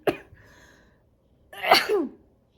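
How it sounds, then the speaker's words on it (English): A short sniff or gasp, a pause, then one loud, close sneeze with a vocal burst. "I'm gonna sneeze"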